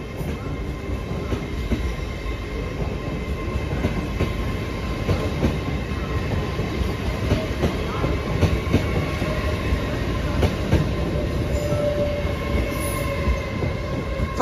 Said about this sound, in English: And behind me, the 13:08 LNER Arizona from Edinburgh to London.